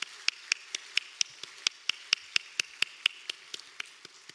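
A church congregation applauding during a Wednesday evening worship service, heard as steady, evenly spaced sharp claps, about four per second, fairly close and moderately loud, with no talking.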